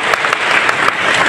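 Dense applause from a crowd at a memorial gathering, loud and continuous, with brisk overlapping claps filling the short burst.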